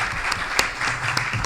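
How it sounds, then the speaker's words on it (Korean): Audience at a judicial policy symposium panel discussion applauding to welcome a panelist, a brief burst of steady clapping heard on its own. "큰 박수로 맞아주시기 바랍니다."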